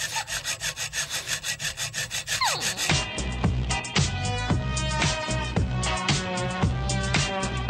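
A nail file rasps across fingernails during a manicure, with close, loud, steady back-and-forth strokes in an even rhythm, then quicker, busier scraping over a tonal background.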